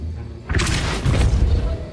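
A Depulso force spell is cast in Hogwarts Legacy, a deep booming thump about halfway through followed by a rumbling burst, loud and close with no talk.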